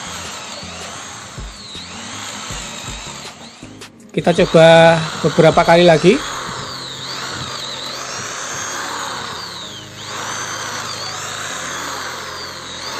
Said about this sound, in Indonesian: Oke, sepertinya lancar ya rekan-rekan ya untuk pengeboran 10 mm di media kayu jati Belanda.